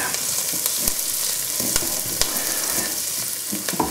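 Chorizo and paprika frying in a pan as it is stirred, a loud, close, continuous sizzle with scattered scraping clicks from the spoon and no talking.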